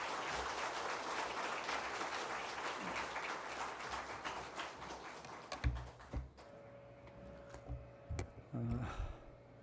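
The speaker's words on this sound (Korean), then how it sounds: "나오실 때 우리 박수로 환영하도록 하겠습니다." A church congregation applauds during a Sunday worship service to welcome the pastor, a dense burst of clapping that fills the first half and then stops abruptly, followed by scattered taps, footsteps and stray room sounds.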